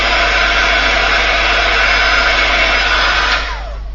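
A heat tool blows loudly and steadily close by while drying the back of stamped cardstock, then cuts off near the end and leaves a fading whir.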